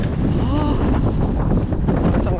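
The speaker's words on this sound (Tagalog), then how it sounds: "hangin mga par." Wind buffets a microphone outdoors in Canada, producing steady loud low rumble and gusty noise through the whole stretch, with a faint voice briefly audible under it.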